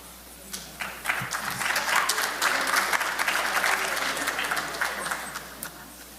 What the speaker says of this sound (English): Such a warm round of applause.